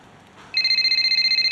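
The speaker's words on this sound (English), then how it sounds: "A phone call." Phone ringing in the F1 25 video game: after a short quiet moment an electronic ringtone starts, a bright rapidly pulsing tone that repeats steadily.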